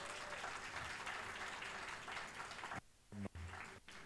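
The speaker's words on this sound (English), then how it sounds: "So another round of applause for Jeffrey." Audience applause at a graduation ceremony fills most of the span as dense, steady clapping, then cuts off abruptly near the end, leaving brief gaps and a few muffled sounds.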